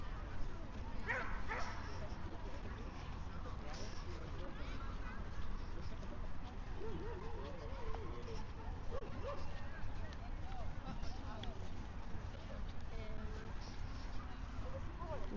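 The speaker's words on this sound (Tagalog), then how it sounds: "Yung malakas ang ingay, malakas ang kahol, yun ay maliit na aso." Small dogs barking and yipping outdoors under trees in Jerusalem, scattered yaps and whimpers heard at a distance beneath steady background noise and nearby talk.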